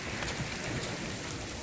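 Steady rain falls outdoors, a constant, even hiss of drops at close range with no talk over it.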